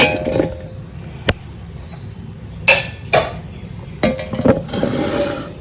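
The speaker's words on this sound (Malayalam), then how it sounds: "ഒരു മിക്സിയുടെ ജാറിലേക്ക് നമ്മുടെ ഈ സ്ട്രോബെറി ഫുള്ളായിട്ട് ഇട്ടു" Scattered clicks and clunks of strawberries dropping into a hard blender jar, with a few sharper knocks at irregular intervals and no talking.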